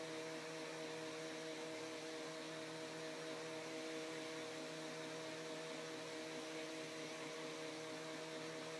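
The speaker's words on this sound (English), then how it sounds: "So I have my fan here, which I use just to dry the area." A small electric fan drying a washable glitter tattoo runs close to the mic, a constant steady whir with a faint humming drone and no talking.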